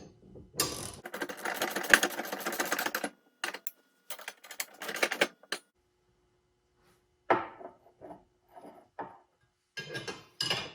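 A socket wrench ratchets in quick clicking runs while tightening bolts on a John Deere integral sleeve hitch, close by, in several separate bursts with quiet gaps between.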